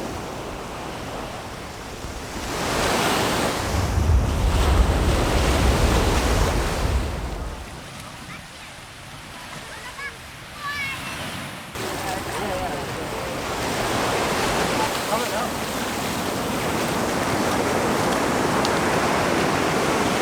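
Ocean surf and tide rushing through rock pools on the Algarve coast near Quinta do Lago, a steady close roar of water with bursts of wind on the microphone and brief talk in the middle.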